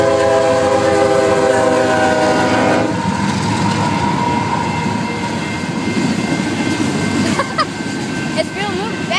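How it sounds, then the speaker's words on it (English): A fast train that is not an Amtrak passes close by, its horn blaring loud and sustained at first, then giving way to a heavy rolling rumble and clatter of the cars. "Don't forget to get the train."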